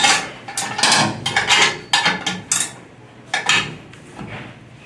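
Wrenches work loose a bar on a ground switch operator, making repeated metallic clanks and ratcheting knocks at close range in irregular bursts, with no voices.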